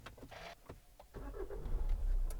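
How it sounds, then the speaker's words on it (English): A 2013 Hyundai ix35 1.7 CRDi 16v Premium is started from inside the cabin. A few quiet clicks and a brief whir come first, then the engine cranks and catches into a steady, rumbling diesel idle that grows louder. "the engine will start"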